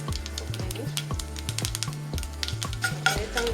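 Fenugreek seeds and a small dried red chili sautéed in a pan for raw-mango methamba, quick repeated stirring scrapes and small clinks over a light sizzle, with a low hum throughout.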